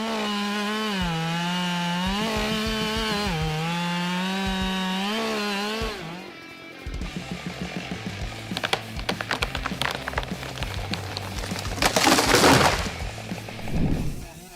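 A Husqvarna 572 XP chainsaw holds a steady, loud engine whine, then bites into wood with a rough, crackling, fluctuating roar up close.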